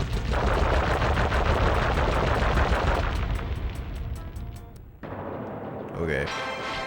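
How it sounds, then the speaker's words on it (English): Gunfire in the PS2 game Sly Cooper and the Thievius Raccoonus, a dense, continuous rattle of rapid shots and blasts under game music and effects, easing toward the end before a sudden shift in the game sound. "Is someone supposed to be shooting me right now?"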